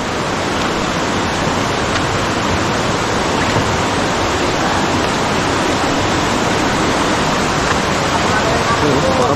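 Water of a forest stream said to come from San Pablo, rushing steadily and loudly as a continuous broadband wash with no pauses, filling the whole clip.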